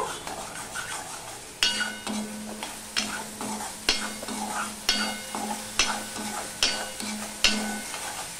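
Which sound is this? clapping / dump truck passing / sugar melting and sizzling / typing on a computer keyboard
sugar melting and sizzling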